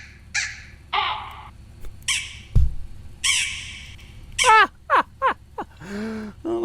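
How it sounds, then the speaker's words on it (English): Several crows caw in a quick series of harsh calls, a few spaced squawks followed by a tight burst of short rising caws and a final drawn-out call, close and clear over a low background rumble. "I have all these crows."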